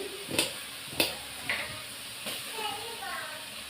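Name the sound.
onion frying in a pan for butter masala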